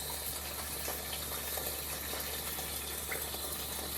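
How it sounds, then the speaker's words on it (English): Water pouring into a soup pot of chopped vegetables, a steady close gushing stream running without a break, with no voices. "I'm gonna put more water in this."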